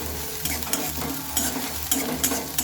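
Finely sliced onions stirred in a sizzling pan, with steady scraping strokes and regular spatula knocks, close and without voices.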